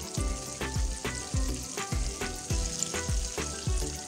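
Chicken half-leg pieces frying in hot oil for a KFC-style recipe, giving a loud, steady sizzle with regular bubbling pops close up.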